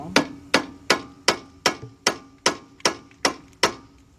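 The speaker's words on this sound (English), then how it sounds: "I'm going to take a little hammer and I'm going to see what happens if I can tap this down." A small hammer taps repeatedly on the front strut of a 2008 Ford Fusion, ten sharp metallic knocks at a steady, even rhythm, close and loud with no talking.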